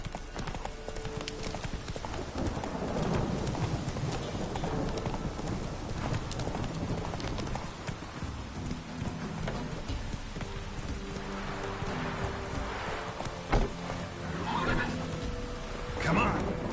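A horse gallops through rain in The Witcher 3: Wild Hunt, with steady clip-clop hoofbeats over a constant patter of rainfall, an occasional whinny, and a voice speaking in places.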